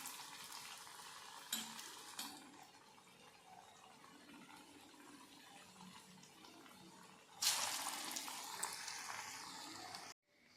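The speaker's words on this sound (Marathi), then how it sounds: "तर आपण कोफ्ता फ्राय करून घेऊया।" Malai kofta balls frying in hot oil give a steady, close bubbling sizzle that swells into a louder, brighter burst near the end and then cuts off abruptly.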